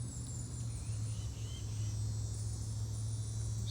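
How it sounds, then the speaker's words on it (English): Swamp cicadas drone in a continuous, even buzz across a Central Florida wetland morning, a steady insect chorus with a low hum beneath and no breaks. "Swamp cicadas,"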